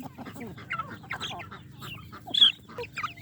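Hens cluck and murmur in short, irregular bursts close by, with a sharper squawk near the end among farm poultry and chicks.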